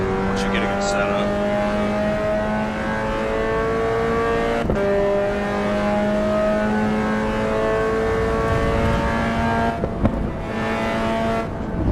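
Mazda MX5 Cup race car in the AC Evo racing game at Brands Hatch, its engine droning steadily with rising and falling revs throughout, with a couple of sharp shifts, under occasional talk.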